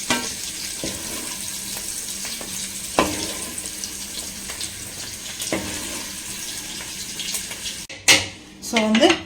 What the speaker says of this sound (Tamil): ஒரு பிளேட்டுக்கு வந்து நான் மாத்திக்கிறேன்.